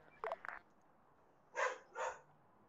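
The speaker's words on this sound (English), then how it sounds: "My dog's whining." Dog whining in an ARMA Cold War era military game: a few short high-pitched whimpers, then two louder drawn-out whines close by, with quiet pauses between.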